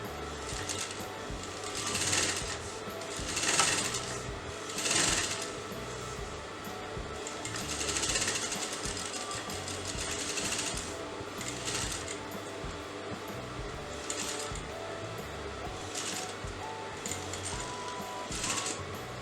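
Sewing machine stitching a half collar neckline, fairly quiet, with bursts of rapid mechanical whirring separated by short pauses.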